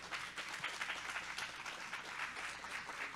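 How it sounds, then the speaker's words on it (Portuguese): Faint, distant-sounding applause rolls steadily from an audience at a book fair as a guest author is welcomed onto the stage, an even wash of clapping throughout. "Palmas para Ginevra, por favor"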